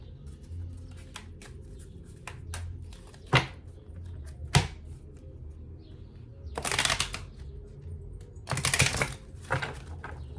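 Tarot cards being shuffled in quick riffling bursts, with softer taps and clicks between them; close and fairly quiet, no talking.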